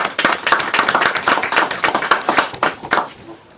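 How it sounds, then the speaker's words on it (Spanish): A crowd applauds at a cultural ceremony in Lambayeque, a lively patter of many hands clapping with distinct close claps throughout, fading slightly at the end. "Lo recibimos con fuertes aplausos."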